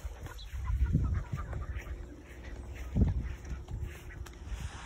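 Chickens cluck softly close by in a farmyard pen, a couple of short clustered bursts over a steady low background hum, no talk.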